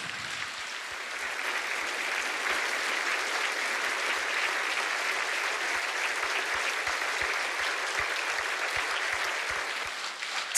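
Sustained audience applause at an Ukrainian evening of gratitude honoring heroes of the armed forces and people, a dense steady wash of many hands clapping continuously and loudly for about ten seconds without talk.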